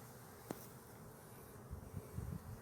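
Honeybees buzzing at an opened hive during a hive split, a faint, continuous insect drone at a distance beneath steady background noise, with a brief click and some low rumbling toward the end.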